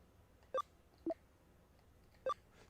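Phone ringing in the video game Digimon Cyber Sleuth: three short electronic chirps spaced irregularly, faint and clean over a quiet background.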